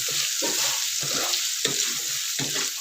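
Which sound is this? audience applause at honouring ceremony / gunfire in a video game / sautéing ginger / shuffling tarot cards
sautéing ginger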